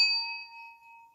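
A resonant bowl resting on an open, flat palm is struck once and rings with a clear, bright tone that slowly fades.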